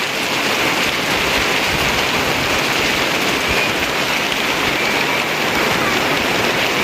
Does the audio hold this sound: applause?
no